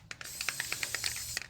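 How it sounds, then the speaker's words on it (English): Short bursts of aerosol lubricant hiss onto the backing of rear brake pads for a 2019 Honda Civic 2.0 with electronic calipers, a close, rapid series of about a dozen spritzes. "we're just gonna spray a little bit on the backing of the pads"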